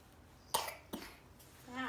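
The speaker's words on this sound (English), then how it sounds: "Cough at you instead." A short, sharp cough followed by a second, softer one, close and fairly loud, with a faint vocal sound trailing at the end.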